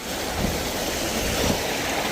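Water rushes steadily through a mountain village damaged by a landslide, a loud broadband roar with low gurgling surges and no voices.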